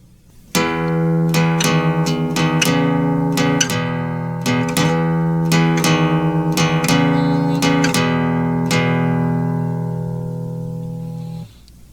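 Acoustic guitar in standard tuning plays the intro riff of a song, with repeated plucked strikes over sustained ringing open strings, close and clear, alone with no talking, fading out at the end.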